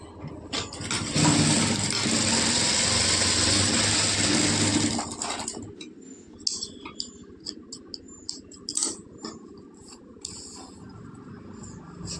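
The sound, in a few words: sewing machine stitching a lining blouse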